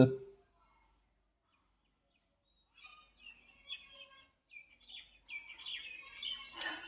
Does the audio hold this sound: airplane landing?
no